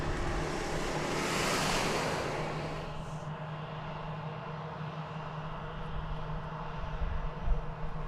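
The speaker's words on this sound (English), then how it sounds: "This Airbus A321 is going to San Francisco" Airbus A321 airliner bound for San Francisco at DFW Airport, a broad roaring rush that swells early then settles into a steady distant rumble with wind noise, no voices.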